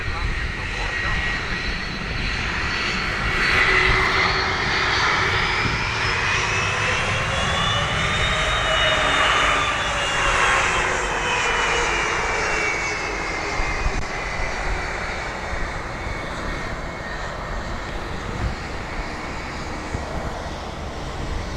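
A jet airliner comes in to land on the runway at Dublin Airport, its engine roar loud and sustained with a rising and falling whine, while a voice talks over radio chatter.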